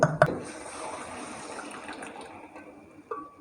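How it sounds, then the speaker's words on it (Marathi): A glass of water splashes and pours steadily into a pot of sambar close by after a couple of sharp knocks, fading to a trickle at the end. "परत एक ग्लास पाणी टाकलेले आहे"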